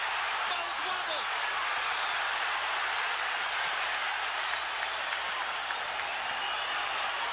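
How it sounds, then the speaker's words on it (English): A boxing arena crowd roars steadily and densely as a heavyweight lands a combination in Andrew Golota vs Riddick Bowe's second-round action, the cheering filling the space without letup and without any voices in the clip itself. "Crowd lights up as Golota lands a combo."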